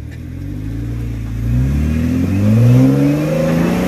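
An off-road vehicle climbing slickrock on the Hells Revenge trail in Moab revs its engine loudly while both wheels spin on rock. The engine note climbs and holds close up, rising in pitch through the few seconds.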